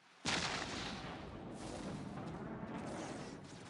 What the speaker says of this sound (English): Here's some good direct hits. Calling down artillery.